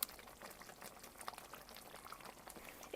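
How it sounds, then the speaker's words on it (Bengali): Raw mustard oil trickles over a cooked coconut pumpkin dish, giving a faint, fine bubbling and crackle of liquid that stays soft and steady throughout. "এটার উপরে দিয়ে একটু কাঁচা সরিষার তেল দিয়ে দেব।"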